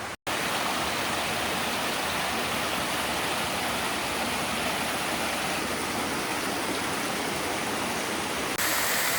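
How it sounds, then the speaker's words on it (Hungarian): A loud, constant roar of a large waterfall in a mossy gorge in Slovak Paradise, a dense rushing wash of falling water that fills the whole clip without letup. "Az eddig legnagyobb vízeséshez verekedtük fel magunkat."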